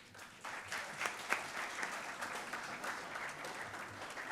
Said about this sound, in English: Please welcome our speakers with a huge round of applause.